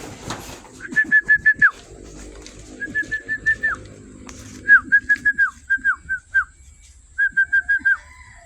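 Close calls of pet pigeons eating young coconut, in clustered bursts of several quick hooting notes, repeated with short pauses between them, over a faint background hum.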